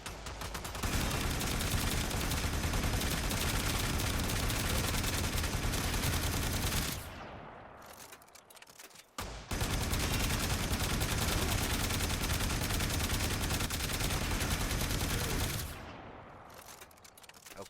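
A Boltor Prime fires in Warframe in dense, rapid automatic bursts, two long sustained strings of shots broken by a short pause, loud and close.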